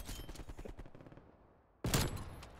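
An RPD light machine gun rattles in a rapid burst in a video game, followed by a short pause and then a loud, sharp second burst.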